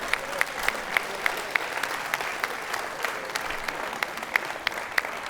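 An audience applauds after a live rendition of the Beatles' "Yesterday" at a comedy club show, steady dense clapping with a few louder individual claps standing out, no talk over it.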